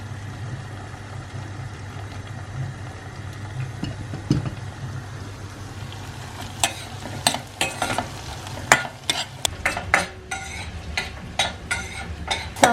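Onion and tomato paste sauce sautés in a pan with a low sizzle underneath as a spoon stirs it, scraping and clacking against the pan in quick irregular strokes that grow busier toward the end, close up with no talking.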